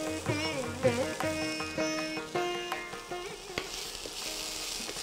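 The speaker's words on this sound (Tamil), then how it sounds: "ஆப்பிளையும் நல்லா வதக்கிக்கலாம்." Chopped apple and tomato being sautéed in a pan for a chutney, a sizzle that rises toward the end under louder tonal background music.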